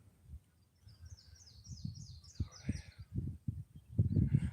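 A quick run of high, thin bird chirps, fairly faint, over low thumping and rumbling noise in the foreground.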